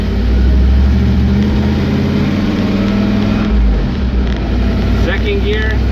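A carbureted LS 5.3-swapped Dodge W100 truck towing a trailer pulls away in first gear, its engine droning low and steady under wind buffeting on the microphone, with a voice speaking briefly over it.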